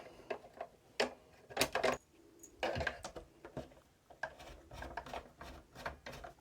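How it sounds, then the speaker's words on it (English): Screws being driven into a 1980s Philips boombox during repair, heard as close, faint ticking, rubbing and clicking bursts in an uneven rhythm with no voice. "Quick bit of screwing."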